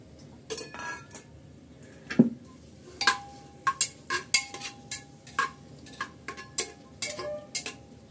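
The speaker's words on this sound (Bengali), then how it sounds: "পেঁয়াজটা হালকা একটু নেড়ে চেড়ে আমি নরম করে নিচ্ছি।" Metal spoon stirring chopped onions in oil in a pan: a series of irregular, close scrapes and clinks against the pan over a soft background sizzle, with no talk.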